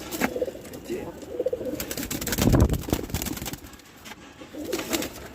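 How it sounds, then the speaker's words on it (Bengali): Pet pigeons coo softly in a rooftop setting under a cloudy sky, their low murmuring calls repeating through steady outdoor background noise, with a brief louder burst midway that may be wing flaps. "এই হলো আমার কবুতর।"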